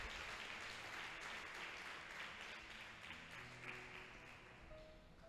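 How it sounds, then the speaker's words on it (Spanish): A church congregation applauds during an evening sermon service, with steady, dense clapping that continues through the whole stretch. It sounds soft and somewhat distant, and no one speaks over it. "darle un fuerte aplauso al Señor"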